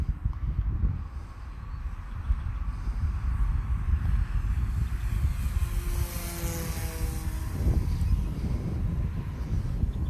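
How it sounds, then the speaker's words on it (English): Steady, rough wind roar buffets the microphone outdoors while an 800mm FMS Zero RC plane flies, with a faint motor whine sweeping past midway through. No voices. "The wind picking up."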